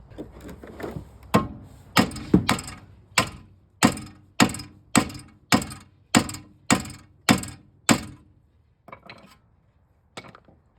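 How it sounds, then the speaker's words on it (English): About a dozen heavy hammer blows land on a Nissan 350Z suspension part near the ball joint in a steady, even rhythm, then stop, followed by a couple of lighter knocks. "I just need to whack this with a hammer."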